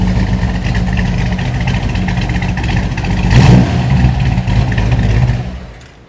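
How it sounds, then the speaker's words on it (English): A 1957 car engine with an aggressive cam idles close by with a loud, lumpy rumble that swells briefly midway, then fades out at the end. "Setting into a very nice idle."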